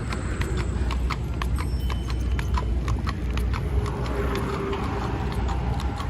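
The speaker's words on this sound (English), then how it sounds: "Clippity clop of the horse." A horse's hooves clip-clop in a quick, regular rhythm on a Manhattan city street. They cut through a loud, steady wash of traffic and urban rumble, and no one talks.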